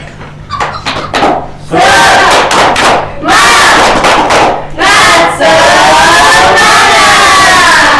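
A classroom of students performs a rhythmic spirit clap chant, loud bursts of clapping and shouted chanting in repeated phrases that fill the room.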